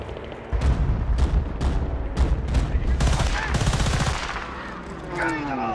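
Loud, rapid automatic gunfire in the video game Battlefield: Bad Company 2 comes in dense, sustained bursts with booming impacts that fade into a quieter ringing tail.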